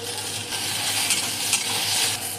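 Chopped tomato sizzles in a pan of frying okra, a steady close crackle with soft scraping and stirring noises, no voices heard.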